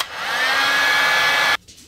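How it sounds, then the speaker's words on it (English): A heat gun blows with a steady hissing whoosh as it softens lacquer on an old guitar, running loud and close before cutting off abruptly near the end. "And then I'm using my heat gun"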